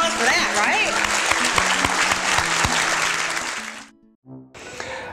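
Dinner gala audience at a 2011 groundbreaking event breaking into a dense, close round of applause for about four seconds. Scattered claps and murmurs follow as it fades.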